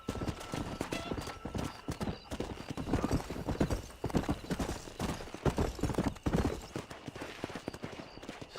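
Horse hooves galloping in the video game Red Dead Redemption, a steady rapid clip-clop rhythm running throughout, close and fairly loud, with a brief whinny and faint voices in the background.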